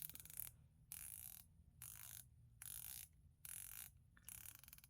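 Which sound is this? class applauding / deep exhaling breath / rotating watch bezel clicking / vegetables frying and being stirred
rotating watch bezel clicking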